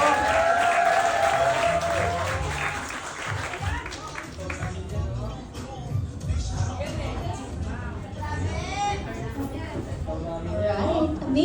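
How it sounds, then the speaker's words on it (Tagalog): Crowd applause for a speaker at a business seminar, clapping mixed with cheering and babble, a voice talking over parts of it at fairly steady loudness. "bigyan po natin ng milyong-milyong palakpak si Mentor Melody"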